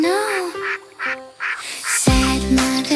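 A children's counting song about five little ducks, where a voice imitates a mother duck with a run of rhythmic, nasal sung quacks over bright musical accompaniment, loud and close.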